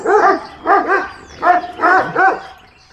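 A dog barks in a series of about five loud, close barks in uneven bursts, fading off at the end, with no one speaking.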